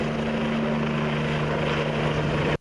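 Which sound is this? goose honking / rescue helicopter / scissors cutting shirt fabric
rescue helicopter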